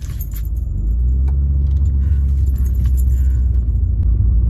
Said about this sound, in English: Why my car sounding like that?